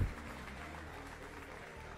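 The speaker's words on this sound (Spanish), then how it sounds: "Aplausos" A steady wash of applause from a crowd at an Age of Empires II tournament final, fairly faint and even throughout, with no single claps standing out.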